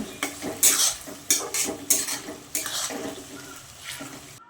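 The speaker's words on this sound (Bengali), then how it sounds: "এগুলো আমি ভালো করে ভেজে নেব" Sliced onions frying in oil for chicken biryani birista, hissing under repeated loud spatula strokes that scrape the pan in an uneven rhythm, close by.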